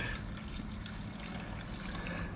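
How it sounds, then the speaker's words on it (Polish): Water being poured in a kitchen, a steady continuous trickling stream close by, fairly quiet and unbroken, with no talking over it. "300 gram wody, to ja dam teraz wody mniej przez Darka."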